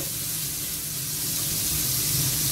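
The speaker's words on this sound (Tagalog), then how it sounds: "Maluto lang niya yung sibuyas, bawang, ibang mga sawg-sawg," Onion and garlic frying in a pan for Bisaya-style dinuguan, giving a steady, close sizzle that holds without a break and swells a little toward the end.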